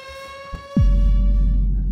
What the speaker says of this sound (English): Oh my gosh, it's a tornado siren!